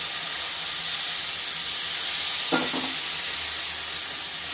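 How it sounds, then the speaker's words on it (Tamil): Tamarind water poured into a pan of frying ghee fish curry with home-ground curry powder gives a steady hiss of sizzling, with a brief splashing burst of liquid midway. "நம்ம தண்ணியை புளியை கரைச்சி வச்சுருக்கோம் அதை தூக்கி ஊற்றிடுறோம்"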